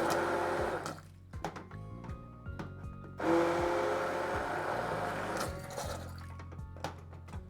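Immersion blender whirring through broccoli cheddar chorizo soup, running steadily and close with brief dips and surges as it churns thick solids, alone without talk.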